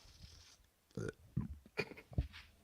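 Several short, throaty belches from a man, close and fairly loud, spread over a couple of seconds during a casual baseball chat, with no talking in between.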